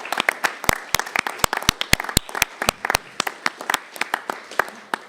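A small audience at a flood and disaster preparedness town hall applauds, with sharp, sparse individual claps close by over quieter background clapping, tapering slightly toward the end.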